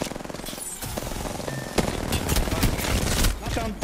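Sustained automatic gunfire in the battle royale game Apex Legends, rapid bursts rattling continuously and growing louder toward the end, mixed with game effects and a player's voice talking over it.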